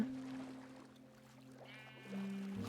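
Sheep in the Minecraft video game bleat a few times, their wavering calls fairly close and clear over a steady tonal game background with no talk.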